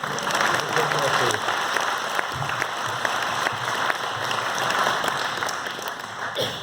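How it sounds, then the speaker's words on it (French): An audience claps steadily for the men of a municipal team at a civic gathering before the aperitif, the dense applause sustained throughout with a voice occasionally audible beneath it. "je vous propose d'applaudir l'équipe, mais uniquement les garçons"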